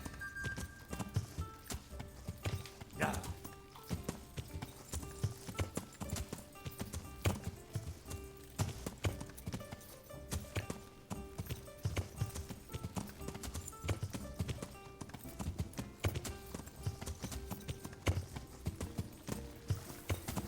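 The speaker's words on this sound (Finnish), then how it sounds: "Niin, mennään reteästi tosiaan hevosella." Horse hooves clip-clop steadily as a rider travels on horseback in the video game Kingdom Come: Deliverance, a continuous rhythmic beat under busy game music and ambience.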